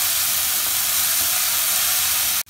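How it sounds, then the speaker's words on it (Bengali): Water poured into a hot pan of dal mixed with dried chilli powder, turmeric and chopped ginger, giving a loud, steady steaming hiss and sizzle that cuts off abruptly at the end. "এবার আমি জল দিয়ে দিচ্ছি"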